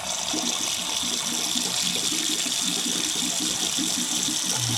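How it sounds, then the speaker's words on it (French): Hot water draining out of a kitchen sink, a continuous close gushing and gurgling rush that holds steady and fairly loud throughout, with no talking. "Je vais enlever déjà l'eau qui est chaude."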